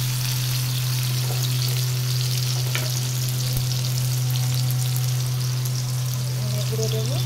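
Chopped onion and tomato fry in a pan, giving a steady, dense sizzle close by with a faint low hum beneath and no talking.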